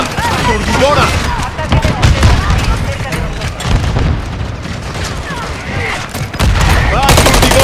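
Dense, loud gunfire and bursts of automatic fire from the video game Call of Duty MW3 pound nearly nonstop, with booms mixed in and voices shouting over the battle.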